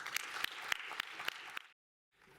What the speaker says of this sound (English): I hope you'll join me in simply giving a round of applause